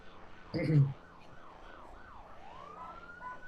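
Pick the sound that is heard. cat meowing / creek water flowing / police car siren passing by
police car siren passing by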